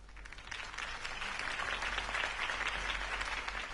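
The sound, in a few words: crowd applause in Batman video game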